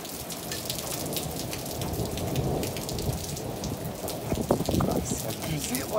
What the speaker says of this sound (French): On ne sait pas assister à un orage comme ça d'une telle violence cette année.